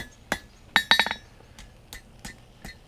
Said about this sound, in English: we're going to come to the anvil here. Just going to flatten this out a little bit and come over the edge